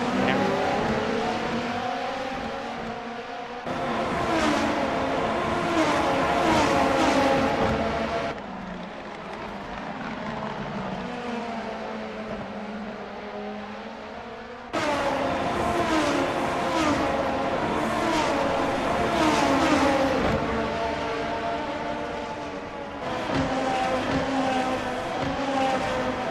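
Race cars in a Formula racing video game at the Motegi circuit, with engines droning and revving continuously, loud and near, and the pitch rising and falling across gear changes with no pause.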